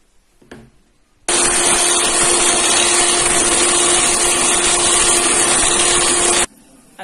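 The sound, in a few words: electric mixer whipping cream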